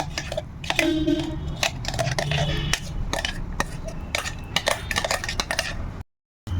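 Sugar paste being mixed into milk-soaked semolina in a bowl, close utensil clinks and scraping against the bowl in irregular bursts, ending with a brief silence.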